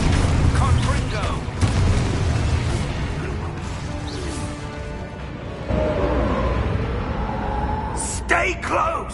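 A Confringo explosive spell blasts in a wizarding video game, with loud booming bursts and rumbling impacts amid busy combat noise, and voices shouting over the action.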